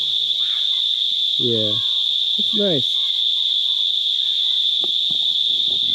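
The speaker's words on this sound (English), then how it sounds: "In the background, you can hear the cicadas." A steady, high-pitched drone of cicadas hums continuously in the background in rural western Jamaica while a person speaks briefly over it.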